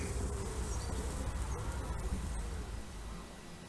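Continuous low buzzing of bees up close in a country churchyard, a steady insect drone filling the whole stretch with slight wavering.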